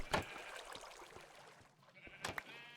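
Sheep in Minecraft bleat twice, once near the start and again toward the end, both fairly close and loud, with quieter clicks and ambient sound between them.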